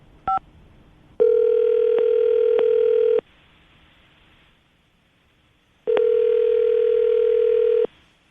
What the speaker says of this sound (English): I'm about to dial the phone number right now